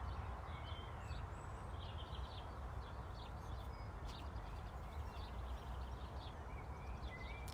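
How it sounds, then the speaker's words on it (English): Birds chirp and call outdoors from a sunny balcony, scattered small high twitters and short song phrases coming and going over a steady low rumble of background ambience, moderately distant and fairly faint. "And just sit and listen to the birds."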